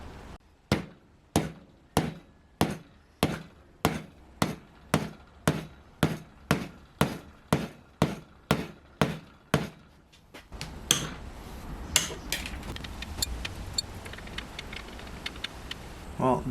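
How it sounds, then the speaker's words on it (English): Fretting hammer striking guitar frets into a fretboard, about twenty sharp, evenly spaced taps close by, then a denser stretch of quicker, irregular knocks over a busier background. "So now I'm just going to go back with the fretting hammer and just make sure they're all tightly seated."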